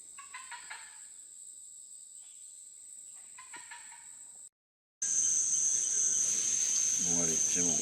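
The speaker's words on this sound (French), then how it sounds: "il y a un oiseau qui s'est mis à gueuler de toutes ses forces" Loud bird calls ring out in the Amazon rainforest over a steady, shrill insect drone; the calls come in short bursts early on, then after a brief silence a louder, busier stretch of calling and insect noise follows.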